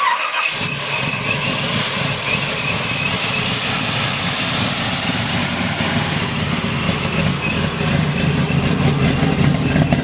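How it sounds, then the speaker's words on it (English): A 1969 Camaro Z-28 V8 catches with a sharp burst as it starts, then settles into a loud, steady, rumbling run that stays close and unbroken for about ten seconds. "Well, let's start it up. Let's hear what this thing sounds like."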